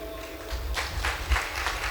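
Members of a Catholic Tamil congregation clap together during a prayer service, a soft, steady patter of hands heard from some distance in the room.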